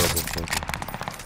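Gunfire in Call of Duty: Modern Warfare, quick rattling bursts of shots repeating through the moment, fairly quiet in the mix and overlapping with game noise.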